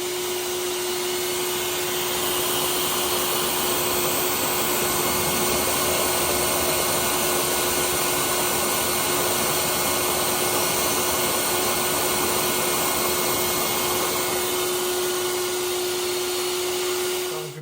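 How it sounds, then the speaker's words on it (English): An Aquavac wet vacuum draws oil and debris from a Yamaha RD250 through a straw, a steady loud motor whine with a constant tone that holds without a break to the end. "using an aquavac sucked all of the debris out and the liquid through the straw"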